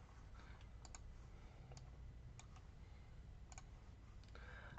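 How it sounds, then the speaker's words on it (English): Fingers type on a computer keyboard, a few faint, scattered key clicks in short clusters against a steady quiet background hiss. "let me just type this in here."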